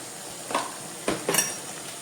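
Spoon scraping and clinking in a pan as masala, chili powder, turmeric and salt are stirred into tomatoes and onions for pav bhaji; a few brief close scrapes over a quiet background.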